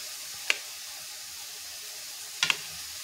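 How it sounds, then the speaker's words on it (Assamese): A spoon stirs boiled egg curry in a pan on the stove, with two brief scraping clinks against a soft, steady sizzle. "এইখিনি এবাৰ এনেকৈ লৰাই দিছোঁ"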